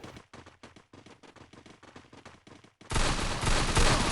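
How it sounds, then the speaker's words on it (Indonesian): Gunfire in the Free Fire battle royale game, a loud dense burst of rapid shots erupting after a stretch of quieter clicking rhythmic game sounds. "Aduh ada yang nembak lagi."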